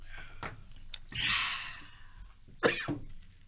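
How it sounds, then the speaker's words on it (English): A couple of short, breathy coughs near the mic, with a hoarse exhale in between, quiet room tone around them. "Who coughed?"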